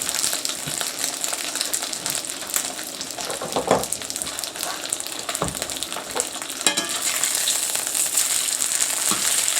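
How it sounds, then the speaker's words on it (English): Steady, loud sizzling of a sous vide steak searing in a very hot pan, with crackling pops and occasional scraping of a utensil. "You hear that? You're on a nice sear."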